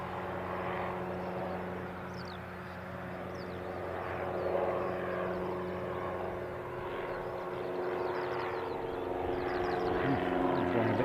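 A propeller aircraft from the aero club taxiing or departing at Christchurch International Airport, a steady droning engine hum with harmonic tones, fairly distant and continuous, with faint background noise and no clear talk.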